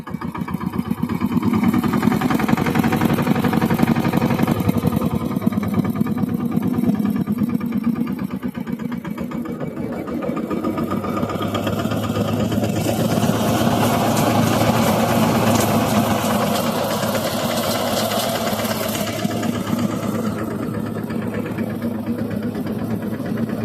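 A Simba 20 mini tractor drives a large Gita thresher through its PTO, giving a steady, loud mechanical drone with a low engine hum and busy rattling that runs continuously throughout, with no talk.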